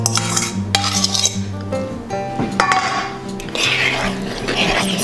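Kitchen mixing of wet ingredients into dry homemade waffle batter, with a utensil scraping and clinking against a bowl in quick, uneven strokes, close and fairly loud.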